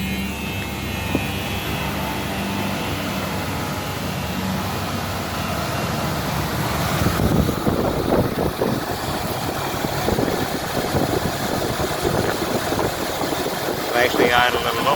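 A 1977 Ford Thunderbird with a 351 V8, 43,600 miles and a new Motorcraft 2150 carburetor idles steadily and close by, a continuous low rumble that roughens slightly in the second half.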